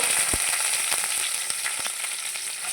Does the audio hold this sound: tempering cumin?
yes